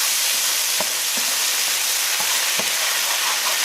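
Onion and garlic frying in a pan with water added to deglaze, giving a steady broad sizzle with a few soft stirring knocks, close and continuous, with no talking.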